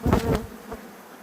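Honey bees buzzing around an opened beehive after a swarm, a close, droning hum that swells in a few brief pulses and then settles to a fainter steady drone.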